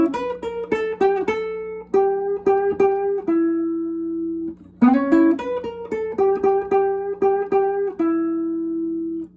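The second part of a Chicago blues lick rings out on electric guitar: quick picked and hammered notes settling into longer sustained tones, played twice in a row, close and clean with no talking.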